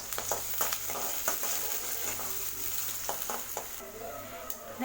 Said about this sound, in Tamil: இதில் வெங்காயத்தை சேர்த்துறதுமே வெங்காயத்தை நல்லா வதக்கி விட்டுருங்க